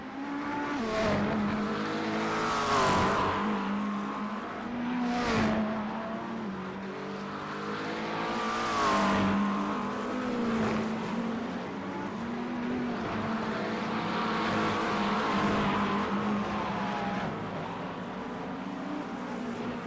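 GTP prototype race cars pass one after another in a 24-hour endurance race, engines swelling loudly with each pass and fading away, several distinct drive-bys over a continuous engine drone.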